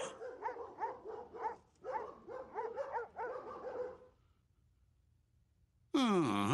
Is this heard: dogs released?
yes